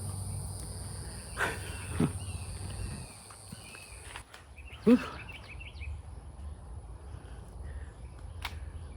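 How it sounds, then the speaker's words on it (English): Insects chirp outdoors beside a quiet road, a high, continuous trilling in the background, with a few footstep-like thumps and scattered faint sounds nearby. "Bugs."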